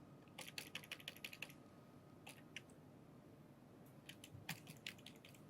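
Quick bursts of keystrokes on a computer keyboard while writing HTML code, heard in three short clusters of rapid clicks separated by quiet pauses, fairly soft and close with no talking.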